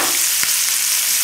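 Onions frying in a pan over the flame, a loud, even close sizzle with one faint stir-like tap partway through.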